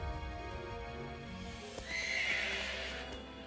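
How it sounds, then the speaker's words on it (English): A horse in the Pokemon Sword video game gives a bright, loud whinny over game music, with faint clip-clop hoofbeats under it. "There's a horse."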